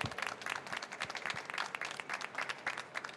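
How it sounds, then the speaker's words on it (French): Audience applause at an awards ceremony for a trade event, many hands clapping steadily and densely throughout, fairly distant and moderate in level with no talk over it. "Donc on veut les entendre applaudir très fort."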